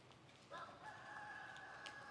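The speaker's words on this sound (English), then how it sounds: "Babe, we got what roosters." Roosters crowing at Batu Caves under constant rain, a single drawn-out crow rising from a steady wet hiss of rain and distant background, faint and far off, with no talking.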